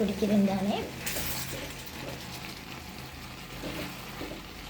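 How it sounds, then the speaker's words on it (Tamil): A pot of okra curry bubbles and simmers steadily while a utensil scrapes and stirs through the contents, with a brief voice at the start. "கிளறி விடுவோம்"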